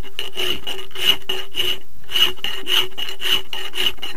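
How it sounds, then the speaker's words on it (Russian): A metal part is hand-filed for a homemade mini tractor, the rasping file strokes repeating steadily and close by, about eight even back-and-forth passes with no talking. "напильником"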